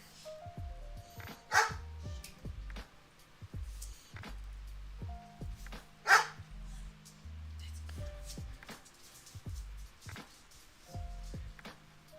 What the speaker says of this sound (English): Here's a dog going nuts.